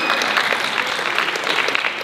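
Audience applause fills a school assembly hall after student filmmakers' names are read, a dense, steady clapping that holds loud and even throughout.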